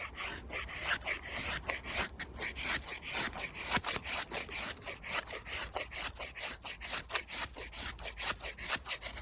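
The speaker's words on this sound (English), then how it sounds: "this wood is just great for feather sticking" A knife with a custom convex-ground 1095 steel blade shaves feather sticks from a piece of wood, giving a rapid series of close, dry scraping strokes in a steady rhythm with no talking.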